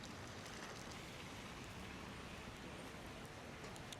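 Steady rain falls in Penang, Malaysia, a faint, even hiss of drops spread across the whole stretch without a break.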